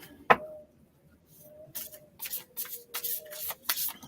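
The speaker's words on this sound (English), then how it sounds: "Shuffle, shuffle, shuffle." A deck of moon phase oracle cards being shuffled by hand, with a single sharp snap followed by a quiet pause and then repeated crisp bursts of riffling, close and fairly soft.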